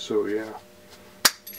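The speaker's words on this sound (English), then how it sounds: "just taking this other bolt carrier group apart real quick" An AR15 bolt carrier group being taken apart gives one sharp metallic clink right after a brief bit of talk, followed by a faint light rattle of metal parts.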